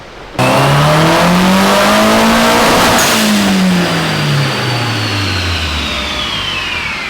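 A tuned car engine revs loud and close during a final dyno pull, sweeping steadily up in pitch for several seconds, then dropping back down with a long, sustained roar.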